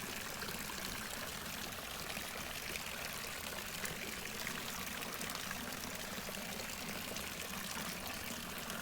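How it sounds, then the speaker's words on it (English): Garden fountain water pouring and splashing in a steady, continuous rush, close and even throughout with no voices. "Sound of the water."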